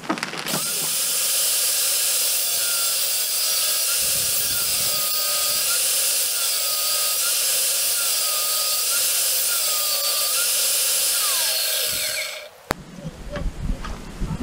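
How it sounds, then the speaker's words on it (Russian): Saw cutting small blocks of cherry wood for smoking chips, a loud continuous whining cut lasting about twelve seconds, then stopping into quieter handling clatter. "И сейчас мы будем напиливать маленькие брусочки."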